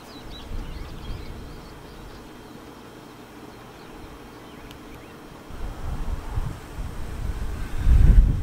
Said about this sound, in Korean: 사월은 바람의 소리가 참 좋습니다.